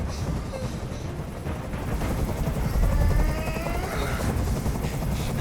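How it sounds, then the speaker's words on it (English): A helicopter in the video game Detroit: Become Human throbs with a steady, rapid rotor chop that swells slightly louder midway, a continuous mechanical drone with no voices over it. "I can't stand that noise anymore. Tell that helicopter to get out of here."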